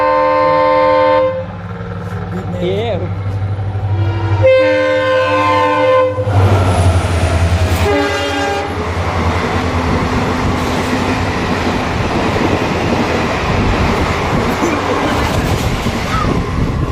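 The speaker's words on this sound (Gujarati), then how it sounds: "આ બીજી ટ્રેનો આવે છે સ્પીડમાં, હમણાં સ્કીપ કરી જાહે." An express train speeding through a station without stopping, sounding long loud horn blasts, then a rising heavy roar and rumble of wagons rushing past close by, with a brief voice exclamation.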